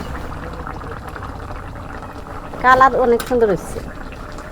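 Bottle gourd curry simmering in a pot, a low steady bubbling bed, with someone speaking briefly over it.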